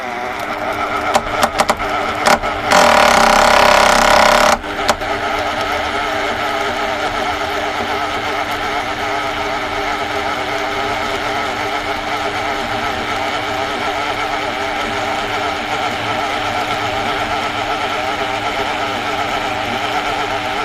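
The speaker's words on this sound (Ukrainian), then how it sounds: "І ось такі маленькі оберти він буде тримати." A Metabo UHEV 2860-2 rotary hammer runs loud and close at low speed, a steady mechanical whine with harmonic tones; a brief harsher burst near the start, then the motor holds an even drone to the end.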